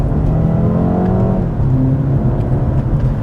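A 2021 BMW 228i Gran Coupe on 19-inch low-profile tires accelerates hard in third gear, its engine note rising steadily in pitch, loud and continuous from inside the cabin.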